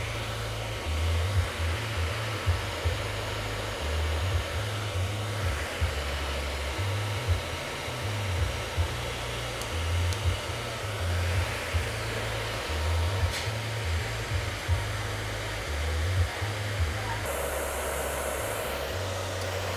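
A hair dryer fitted with a diffuser dries extra short hair, giving a steady, loud, close blowing roar with a slight wavering pulse that runs unbroken for the whole stretch, with no talking.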